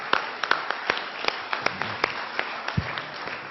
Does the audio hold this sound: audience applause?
yes